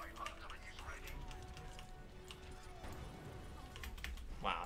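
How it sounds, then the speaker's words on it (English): Computer keyboard typing during an Overwatch gaming session, a steady stream of light clicks under background game sound and room noise. "You are typing, Mr. Anna."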